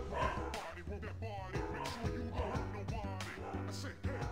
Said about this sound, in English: Why are they barking? There's no one there.